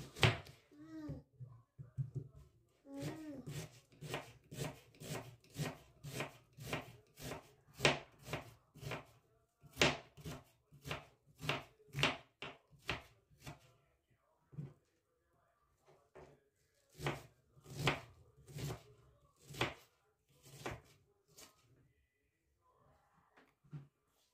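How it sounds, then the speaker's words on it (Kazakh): An onion is chopped finely with a knife for a cabbage-roll dish. Quick, close knife strikes land on a board in rhythmic bursts, pausing briefly between runs. "Ал енді пиязымызды жақсылап тураймыз. Накөн майдалап."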